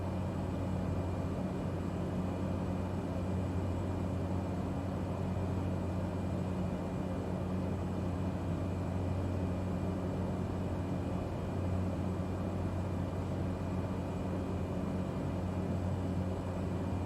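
A Cessna Caravan's turboprop engine drones steadily in Microsoft Flight Simulator, a constant, even cockpit hum with no variation.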